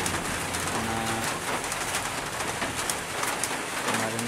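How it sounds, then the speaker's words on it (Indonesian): Steady rain falls in a village, a dense continuous hiss that stays even throughout, while a dove coos faintly in the background at the start and end; nobody speaks. "Sudah mulai hujan."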